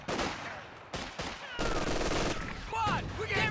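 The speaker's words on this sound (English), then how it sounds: "Another 50 cal coming in for Pineapple, which is a pretty good choice. Suppressing the LMG Grenadiers, also a good idea." Heavy .50 cal machine gun fire from the Company of Heroes 2 strategy game, suppressing LMG Grenadiers. Dense bursts of gunfire crackle over a busy battle mix, with brief gaps between the volleys.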